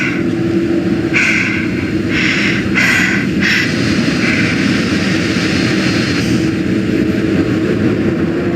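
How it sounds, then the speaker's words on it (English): An airliner descends in The Casting of Frank Stone, its steady jet engine drone roaring continuously in the cabin, with a few muffled bumps and rustles layered over it. "we'll be starting our final descent into the void airport in just a few minutes"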